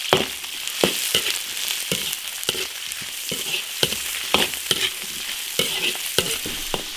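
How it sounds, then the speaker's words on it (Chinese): Sausage stir-fried with garlic and dried chili in an iron wok: steady sizzling hiss of hot oil broken by repeated sharp scraping clacks of the spatula tossing the food, close and fairly loud, with no talking. "烧油，大蒜、干辣椒炒香，上香肠。"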